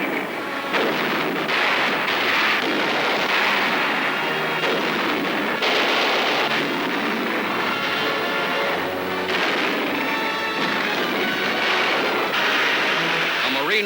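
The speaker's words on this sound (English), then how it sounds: "Marine runs to cover as enemy fire grows intense." Artillery and enemy gunfire from a World War II battle on Okinawa, carried as a dense, continuous roar of blasts and shots at high, steady loudness with no pauses.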